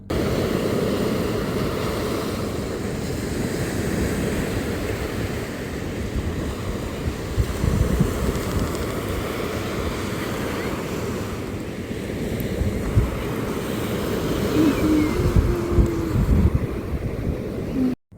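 Ocean waves wash in on Rasthakadu beach in Kanyakumari, a continuous rolling surf roar with wind buffeting the microphone and swells rising and falling, with no voices.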